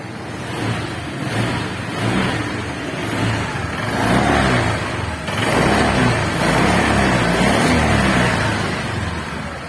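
Honda Click 125i scooter engine running after a throttle body air adjustment, a loud close steady hum with slight swells and small throttle blips, no talk.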